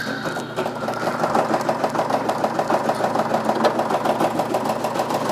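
Brother PRS 100 and SE 625 embroidery machines run steadily, their needles stitching in a fast, even mechanical rhythm with a constant motor hum, close and moderately loud with no voices.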